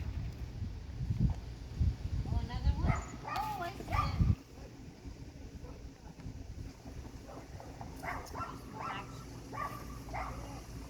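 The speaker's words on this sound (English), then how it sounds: "Noise, dogs barking, and coyote over there." Dogs bark outdoors near a casino in San Diego, a few sharp barks and yips mixed with a voice talking, then fainter calls further off over a windy background.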